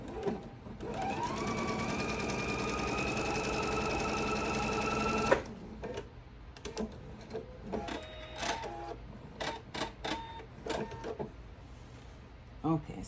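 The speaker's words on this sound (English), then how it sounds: "I'm going to roll this over about a quarter of an inch, and then I'm going to stitch it across at about an eighth of an inch from the edge." A sewing machine stitches a rolled edge turned a quarter inch and sewn an eighth of an inch in, running in one continuous whirring burst for about five seconds before stopping, then faint clicks and handling sounds follow.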